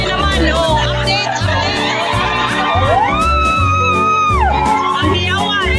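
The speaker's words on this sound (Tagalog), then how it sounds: "Ang sigaw ng lahat." Crowd shouting and cheering at a meet-and-greet for Team Kalingap, with a dense, loud continuous mix of voices, whoops and children's shouts, one rising cheer swelling in the middle.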